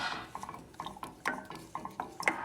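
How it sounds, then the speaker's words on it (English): Mac and cheese sauce being stirred in a pot, a spoon scraping and knocking against the metal in a loose repeating rhythm, close and quiet, with no voices. "I'm going to continue stirring."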